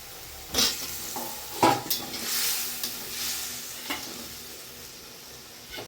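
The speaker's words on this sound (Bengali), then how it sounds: "এইটা আমি মশলার সঙ্গে কষিয়ে নেব আলুটা" Potatoes sautéed with spices in a pan, a steady sizzle with repeated spatula scrapes and clacks against the metal at an irregular pace, close and clear.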